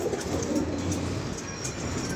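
A pigeon coos softly amid a steady, noisy background, with no other clear sounds over about two seconds.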